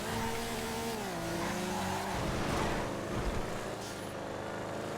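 A car racing in GTA V FiveM, engine note steady and then dropping as the tires squeal and skid, continuous and fairly loud with no talk.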